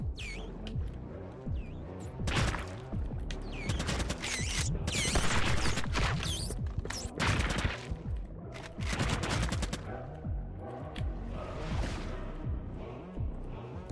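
Rapid bursts of gunfire in an indie shooter video game, dense overlapping shots and automatic fire with crashes and whooshes, loud and sustained throughout.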